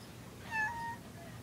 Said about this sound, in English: Look at this little cat.